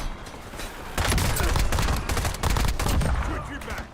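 Heavy video game gunfire in a tactical shooter, bursts of rapid automatic shots crowding together loud and close for most of the stretch, with a faint voice underneath.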